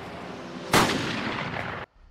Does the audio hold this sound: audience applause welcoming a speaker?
no